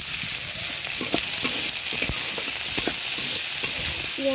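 Onion and garlic frying together in a pan while being stirred, a steady close sizzle with scraping stir strokes over it, no talking.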